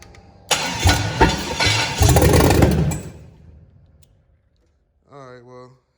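A 5.3 LS V8 swapped into a 1962 Impala with Holley exhaust manifolds cranks and fires up, roaring loud and rough for a few seconds before dying away; a short voice follows.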